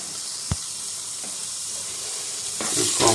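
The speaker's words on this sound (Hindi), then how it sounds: "इनको भी हम कर लेंगे सौते।" Tomatoes, green chilies, onion, garlic and ginger sauté in a pan, a steady bright hiss and sizzle with a single clack early on and a louder burst of sizzling as stirring picks up at the end.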